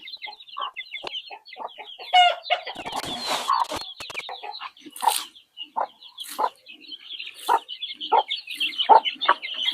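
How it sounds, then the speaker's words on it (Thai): Chickens cluck in a rural Thai village yard, a series of short, sharp clucks and calls at close range, with a brief burst of louder squawking and no talk. "ไก่ใหญ่มีตัวเดียว"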